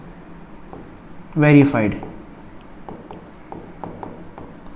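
A marker or chalk taps and scratches faintly across a classroom board while a maths problem is written out, after someone briefly says one word.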